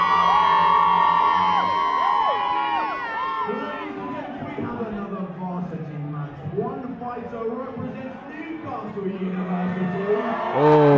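Crowd at a university fight night in Newcastle cheering, whooping and shouting, a loud dense roar that swells and dips across the whole stretch, with voices cutting through.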